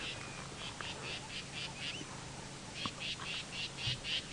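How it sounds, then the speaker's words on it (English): Southern black tits chatter in a run of short, evenly spaced scolding calls while mobbing pearl-spotted owlets on a safari drive at sunrise, faint against a quiet outdoor background with a pause midway before the calls resume. "there are some other little birds that are making a noise. the southern black tit that is mobbing those owls"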